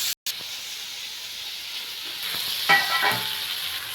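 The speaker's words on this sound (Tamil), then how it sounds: "இந்த கடாயில் எண்ணெய் சூடானது இதெல்லாம் போட்டு ஃப்ரை பண்ணி எடுத்துக்கலாம்." Vegetables for a veg kuzhambu fry in hot oil in a kadai, a continuous close hiss and sizzle that swells louder toward the end with a few spatula stirs.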